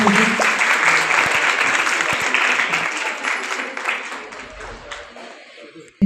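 Sustained audience applause at a National Girl Child Day 2024 award ceremony where certificates and mementos are presented, a dense steady clapping that gradually thins and fades toward the end.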